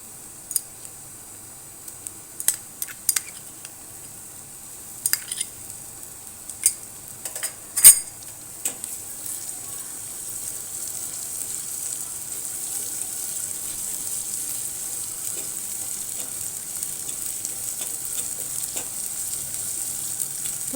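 Ginger garlic paste added to softened onions in a pan, frying with a steady soft sizzle that rises and holds after a few sharp clinks of a metal spoon against the pan early on.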